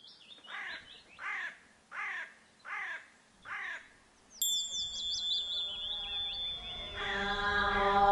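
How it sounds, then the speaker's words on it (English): Crows caw in a Himalayan town in the early morning, five loud rhythmic calls in a row, then a clear whistling birdsong and softer chirps rising over a growing low hum of morning activity. "chirping of the birds"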